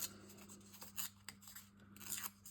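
Quick, close ripping bursts as a piece of material is torn by hand, several short tears in a row in a quiet room.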